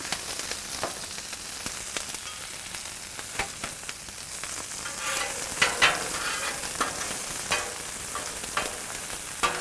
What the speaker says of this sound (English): Lay down some oil right there. Some diced onion.